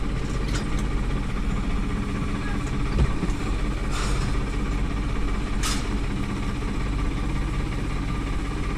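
A tractor engine idles close by, a steady, throbbing, continuous low rumble with a few faint knocks and clicks over it.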